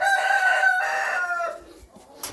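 A rooster crows loudly nearby in one long drawn-out call, followed by a few softer clucks and a brief sharp squawk.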